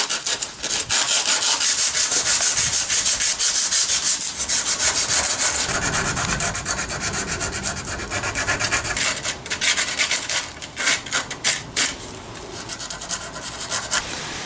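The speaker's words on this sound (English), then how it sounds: "First step here is to use 40 grit sandpaper and apply some muscle for a few minutes." Coarse 40 grit sandpaper scrubs hard against tarnished, rusty Mercedes-Benz R129 muffler tips, a close, continuous rasping that comes in steady back-and-forth strokes and grows more broken toward the end.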